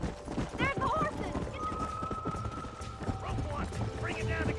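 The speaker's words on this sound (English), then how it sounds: "There's the horses!" Clip-clop of horse hooves with an occasional whinny in the video game Red Dead Redemption (PC), mixed with game music tones and a person talking over it.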